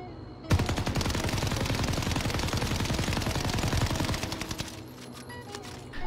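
A BREN gun fitted with a Mercury Silencer fires in a video game, a long unbroken automatic burst of rapid, evenly spaced shots that starts abruptly, runs loud and steady for about four seconds, then stops, leaving a quiet tail.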